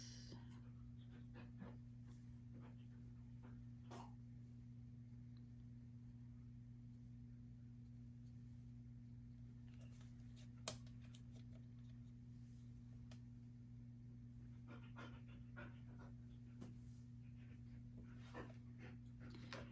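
Dog pants heavily and steadily close to the microphone, with a constant low electrical hum and a few faint clicks and taps.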